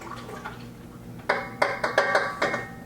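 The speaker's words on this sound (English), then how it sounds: "I'm going to pour this back in." Water is poured back into a bottle in several quick splashing, trickling bursts, close and fairly loud against a quiet room.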